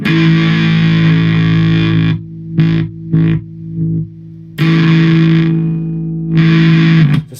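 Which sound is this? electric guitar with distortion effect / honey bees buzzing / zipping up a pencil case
electric guitar with distortion effect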